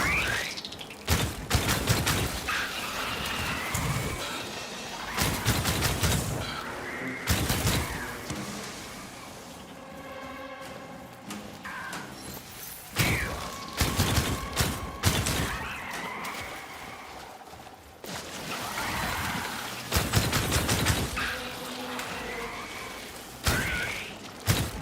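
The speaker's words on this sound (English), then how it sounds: "I really like the shooting in this boss." Boss fight in the video game Outcast: A New Beginning, with repeated bursts of weapon fire and impacts that come in clustered volleys, separated by short quieter stretches of mechanical game sound, and no talking.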